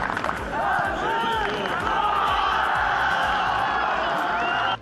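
Away supporters' section roaring at a football match, a dense sustained crowd din with chanting and whistles over drum-like thumps, loud and continuous throughout.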